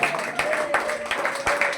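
An audience at a coaching centre's celebration of exam results breaks into applause, short irregular bursts of clapping that sound moderately close.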